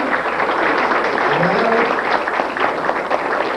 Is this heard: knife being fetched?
no